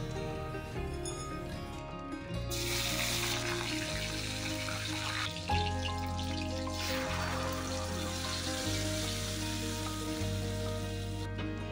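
Loud crackling sizzle as panch phoron, black pepper and curry leaves are dropped into hot oil, spitting and hissing steadily over a low background hum.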